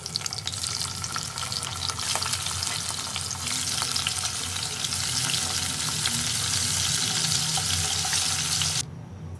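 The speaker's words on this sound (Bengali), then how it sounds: "এবার আমি মাছগুলোকে ভেজে নিচ্ছি" Prawns frying in hot oil for a prawn malai curry, a dense, loud, continuous sizzle and crackle that cuts off abruptly near the end, with no talking.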